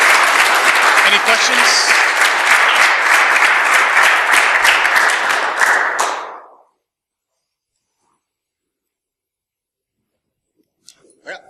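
Audience applause at a BSides Philly security conference after a talk on the hacker mindset, a dense, loud burst of clapping lasting about six seconds before stopping abruptly into silence, with a brief voice near the end.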